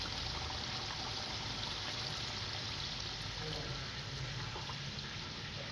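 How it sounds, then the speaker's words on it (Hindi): Steady water, about half a glass, pours and trickles continuously into a pan of cooking egg masala, a constant hissing splash with no voices. "अब इसमें हम ऐड करेंगे तकरीबन आधा गिलास पानी"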